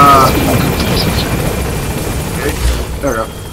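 Helicopter in the Metal Gear Solid 5 video game, a loud rumbling rotor drone that fills the whole stretch and slowly fades slightly, with brief voice fragments near the end.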